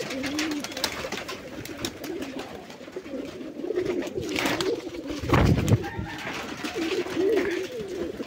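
Pet golla pigeons coo in repeated soft, throaty rolls, several birds close by, with other faint bird calls and low background noise throughout.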